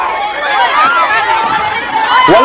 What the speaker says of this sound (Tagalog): Walang hupay na sigawan.